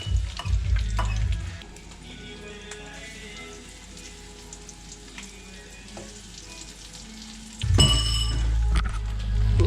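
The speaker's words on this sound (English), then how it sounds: "Just get them sizzling away, maybe a minute, 2 per side" Beer-battered squid rings fry in a shallow pan of hot oil with a steady crackling sizzle. Clunks and bangs from the pan open and close the stretch, and the frying grows louder near the end.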